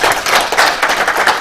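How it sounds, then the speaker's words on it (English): An audience at a university faculty ceremony claps steadily and loudly, a dense crowd applause that holds evenly throughout without anyone speaking over it. "And can we give her a clap?"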